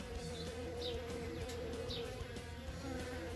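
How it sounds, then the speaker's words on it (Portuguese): Mandaçaia da caatinga stingless bees buzz steadily around a wooden hive box, a continuous close insect drone with individual bees passing near now and then. "As abelhas mandaçaia estão pegando, mandaçaia da catinga pegando o restante que sobrou"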